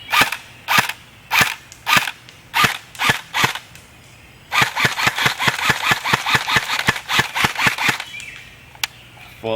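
A JG M4A1 airsoft carbine with a 9.6 volt battery fires in semi-auto, loud and close. Sharp single shots come in a steady spaced series, then faster repeated shots with a faint motor whir between them.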